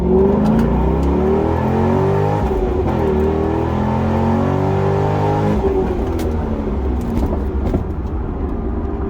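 A 400-horsepower C6 Corvette accelerating hard from a standstill toward 60 mph on the road, loud engine roar climbing in pitch through gear changes, heard from inside the car with no talking.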